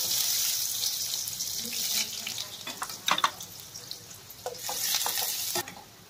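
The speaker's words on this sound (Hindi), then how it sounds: "नंतर आपण टाकत आहोत बारीक चिरलेला कांदा" Finely chopped onion dropped into hot oil with mustard seeds and cumin for Maharashtrian poha, a continuous bright sizzle with a few stirring clicks and scrapes.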